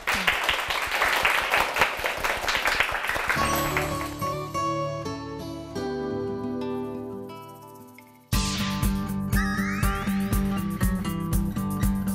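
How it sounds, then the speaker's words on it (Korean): Audience at a Korean lecture show applauds to welcome a calligraphy author onto the stage; dense clapping fills the first three seconds, then gives way to music. "강연을 큰 박수로 청해 보겠습니다"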